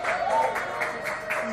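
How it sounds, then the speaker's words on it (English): Audience applause at a comedy club event in a bar lounge, a brief burst of clapping and crowd noise under a voice talking over it. "Round of applause for the Lotus"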